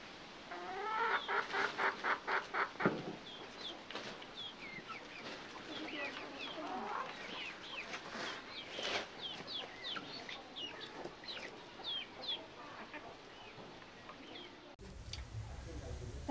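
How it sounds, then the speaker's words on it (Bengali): Domestic ducks and chickens being fed make repeated clucking calls, a soft, uneven chatter of many birds fairly close by, with a dull thump partway through. "হাঁস মুরগি খাবার দিচ্ছে খাওয়ার জন্য।"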